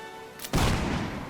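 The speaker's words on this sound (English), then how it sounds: "Fire that cannon!" Cannon firing in the Mount & Blade Warband video game, a single deep booming blast that rolls into a sustained rumbling echo, heard alone.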